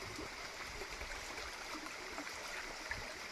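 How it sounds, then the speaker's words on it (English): A small countryside stream flows beneath a bridge, a soft continuous rushing and gurgling of water heard from above, steady and fairly quiet with no voices. "I'm stood on a bridge over a stream"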